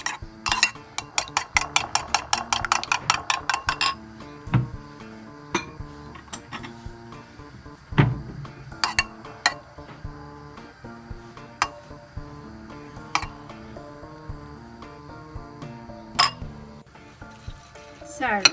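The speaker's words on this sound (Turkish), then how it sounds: "Yoğurdumuza biraz tuz ilave ediyoruz. Karıştırıyoruz." A spoon clinks and scrapes against a bowl while salted yogurt is stirred, with a quick run of bright taps early on, then scattered lighter knocks over a soft background.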